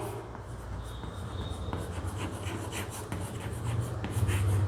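A pen writes accounting working notes on paper, giving a soft, steady scratching that runs continuously and faintly with no voices over it.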